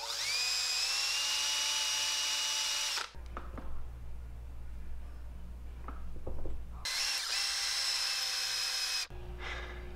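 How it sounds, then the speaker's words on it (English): A high-pitched power drill whines steadily for a few seconds while drilling holes in a fishing lure, stops briefly amid faint handling noises, then whirs again in shorter bursts. "Okay, time to drill some holes."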